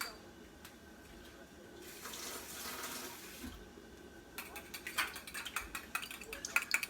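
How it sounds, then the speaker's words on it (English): Water trickles and splashes into a small bowl of spring roll dipping sauce made with chopped garlic, a soft pour that gives way to brighter clinking and splashing, close by with no talking. "Add a little bit of water."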